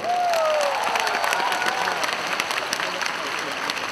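An audience applauds after a song at a Taichung folk-song concert event, a dense, steady wash of clapping with scattered cheers, while an amplified host's voice carries over it at the start.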